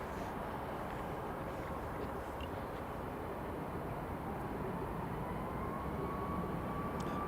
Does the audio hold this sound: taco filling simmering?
no